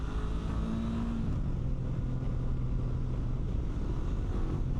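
A 2025 Honda NX500 motorcycle is ridden at speed, with a steady engine drone, a brief pitch drop like a gear change, and constant wind rush over the microphone, no speech.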